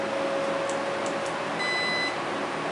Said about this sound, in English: It's going to go ahead and beep when it's ready for me to start enjoying the vapor.